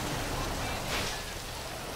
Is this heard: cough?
no